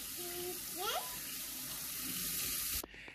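Tap water runs steadily into a sink while bite-sized potatoes are washed, a continuous close hiss that stops abruptly near the end, with faint voice-like tones early on.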